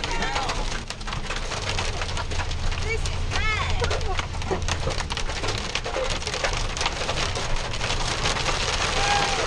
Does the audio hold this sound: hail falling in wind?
yes